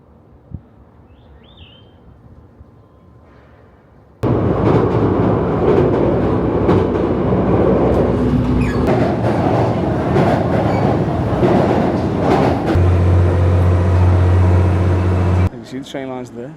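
Train running along rail lines in Oita, Japan, starting suddenly as a loud, close, steady rumble with clatter and a sustained hum, fading abruptly near the end; quieter street ambience and a brief voice come before it.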